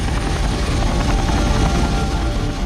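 Military helicopters flying low on a long-range mission, a steady loud rotor drone with dense low-frequency thumping that holds constant throughout, with no voices.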